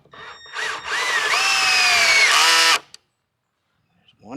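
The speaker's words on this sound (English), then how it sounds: "So now let's put the screws in there." A power drill drives a screw into a wooden garden bed box, its motor whining up in pitch for about two seconds as it bites, then cutting off abruptly into silence.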